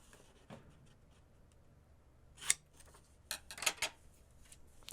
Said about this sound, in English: I'm going to cut them at an angle.